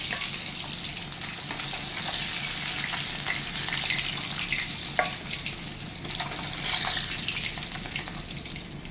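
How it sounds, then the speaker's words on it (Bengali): Fresh sarputi fish frying in hot oil, a steady, close sizzle with continuous crackle and occasional small pops, with no talking over it. "এটা টাটকা মাছ বলে আর পাতলা ঝোল হবে বলে এটা অল্প ভাজলেই হবে।"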